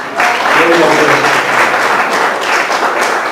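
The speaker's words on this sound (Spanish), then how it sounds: "Demos un aplauso al Señor" A church congregation applauds during a Spanish-language worship service, loud sustained clapping from many hands filling the room, with a voice briefly heard over it near the start.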